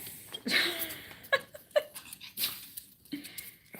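A dog makes scattered close snorts, huffs and short whimpery noises, with brief breathy sounds between quieter pauses.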